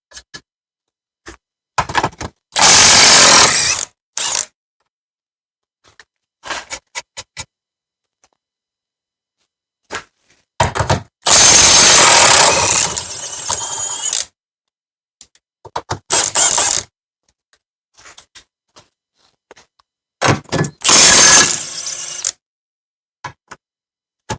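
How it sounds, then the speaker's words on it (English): A Milwaukee mid-torque impact wrench works on the rear sub-frame bolts of a 2007–2017 Jeep Patriot, Compass or Caliber, firing three loud, close bursts of a few seconds each, with quiet gaps and faint clicks and clanks between them. "Let's see if the mid torque will pull these bolts out."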